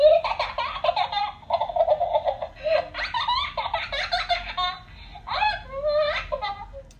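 A 4ft creepy Halloween doll decoration lets out a long run of high, cackling, childlike laughter in repeated bursts, loud and close, with no talking over it.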